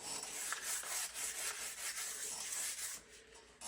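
Steady abrasive rubbing of sandpaper on a wooden axe handle, smoothing the profile, with repeated back-and-forth strokes at close range, fairly quiet, no talk.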